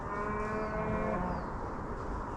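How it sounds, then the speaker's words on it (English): A cow gives one long, low moo near a woodland walking trail, close by against quiet outdoor background. "There's all these cows."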